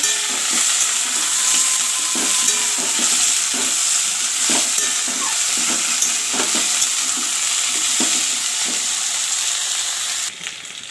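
Food fries in a pan with a constant loud sizzle, while a spatula scrapes and stirs in a regular rhythm, close up and without talk.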